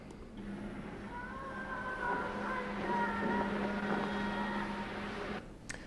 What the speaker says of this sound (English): That's the cry of a Bigfoot in the woods.